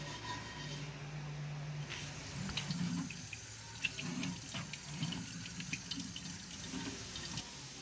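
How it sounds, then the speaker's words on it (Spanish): Water from a kitchen tap runs steadily over a pot that was scrubbed clean with ketchup, a continuous close splashing rinse with small clinks as the pot shifts under the stream. "la voy a enjuagar para ver cómo quedó."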